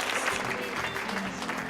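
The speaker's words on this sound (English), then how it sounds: "Please, one more round of applause to every single one of our finalists." A crowd applauds the finalists of a women-in-science competition, a brief dense burst of clapping heard at steady volume throughout.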